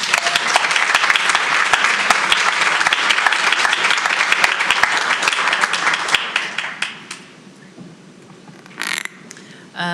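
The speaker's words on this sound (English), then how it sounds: "Let's give him another round of applause." A board meeting audience gives a loud, dense round of applause that runs for about seven seconds, thins out, and ends with a brief final burst of claps.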